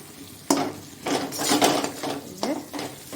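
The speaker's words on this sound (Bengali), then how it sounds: "এরপর ভালো করে মাছটার সাথে মশলাটা মিশিয়ে নেব।" Fish being mixed with spices in a kadai, with a spoon scraping and clattering against the pan in several distinct bursts, close and fairly loud, alone without talk.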